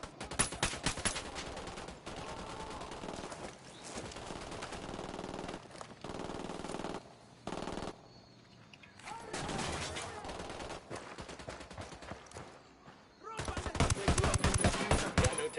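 Rapid automatic gunfire from the video game Ghost Recon Wildlands rattles in sustained bursts, breaking off briefly and then resuming loudly at the end.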